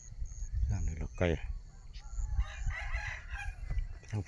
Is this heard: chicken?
yes